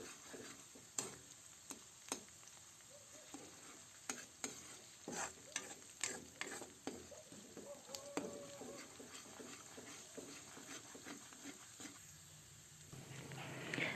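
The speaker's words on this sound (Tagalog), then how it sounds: "Ayan, gisahin lang natin yan hanggang sa maluto." Long green chilies and red siling labuyo being sautéed in a pan for pork-leg kare-kare, a steady faint sizzle broken by frequent clicking stirs of a utensil against the pan, close up with no talking.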